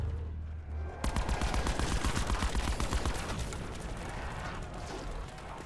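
Rapid bursts of gunfire in a shooter video game, a sudden loud onset of dense repeated shots after a quiet second, continuing as a steady barrage that slowly eases.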